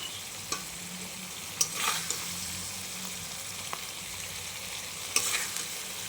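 Thick paste of ground milk skin (cream) and spices sautéing in separated oil in a pan, a steady soft sizzle with occasional stirring scrapes and light clinks, close and unaccompanied by talk.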